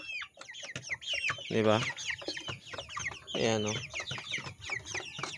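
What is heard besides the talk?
chickens clucking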